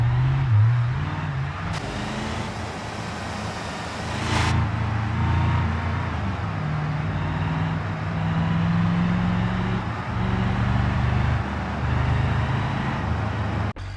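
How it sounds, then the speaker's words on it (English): A car engine in the driving game BeamNG Drive runs with its radiator removed, giving a continuous engine hum and road noise with varying revs as the car is driven, alone without talk. "and now let's drive the car."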